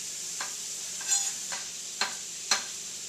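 Sliced white button mushrooms frying in a pan for a vegetarian chili, a steady close sizzle with a handful of soft stirring scrapes spaced about half a second apart, no voices.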